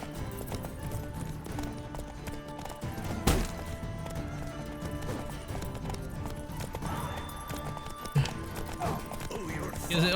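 Roach, Geralt's horse in The Witcher video game, gallops with a steady, fairly loud clip-clop rhythm over game music and ambience, with a couple of sharp hits along the way.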